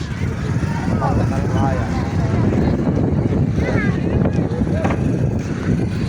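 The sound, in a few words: strong wind by a lake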